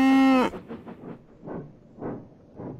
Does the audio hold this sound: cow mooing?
yes